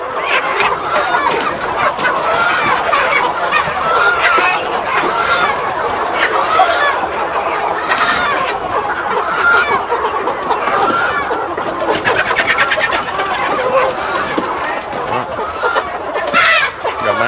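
Free-range hens cluck and chatter in a farm coop, a dense, continuous chorus of close clucks and squawks with people talking over them.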